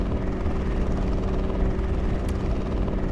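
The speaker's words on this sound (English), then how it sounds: "maybe take another little helicopter ride." A helicopter flies over a city in the video game CityState II, its rotor producing a loud, continuous low chopping drone that holds steady throughout, with no voices.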